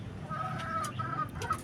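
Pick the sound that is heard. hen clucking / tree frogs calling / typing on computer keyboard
hen clucking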